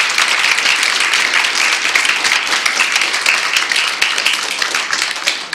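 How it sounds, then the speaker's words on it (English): Dense crowd applause, steady clapping from many hands filling the whole stretch without a pause, no voices standing out. "How about a big round of applause for you?"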